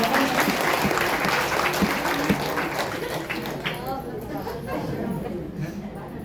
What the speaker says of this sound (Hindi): तो आप अपनी ताली बजाओ